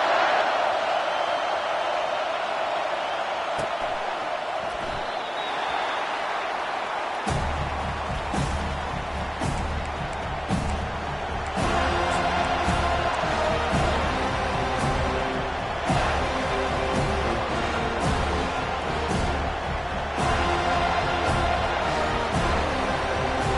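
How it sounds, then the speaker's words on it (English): A football stadium crowd roars at the opening kickoff of a Seminoles game, a broad, continuous wall of cheering that swells louder midway, with band music and an announcer mixed in. "They challenge this crowd to bring the energy, and I'd say they're doing that."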